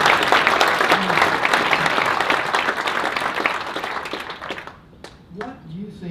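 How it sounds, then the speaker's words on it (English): Audience applause at a business leaders' gathering in Utah, a dense, loud burst of clapping that fades over the last seconds as a voice begins talking. "Can we give him a round of applause for that?"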